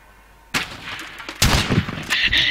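Gunfire in the survival game Rust, with two sharp, loud bursts in quick succession followed by a sustained crackling volley, close up and without any talking.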